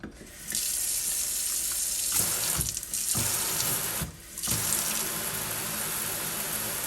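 Water gushes steadily from a kitchen sink faucet during a diverter test, loud and close, with a few brief dips where the flow is interrupted before resuming.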